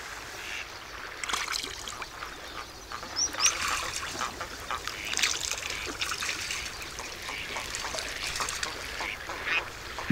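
Ducks and other waterfowl resting in the Ebro Delta wetlands on their migration, with scattered quacks and bird calls over a steady watery trickle, moderately close and without any talk.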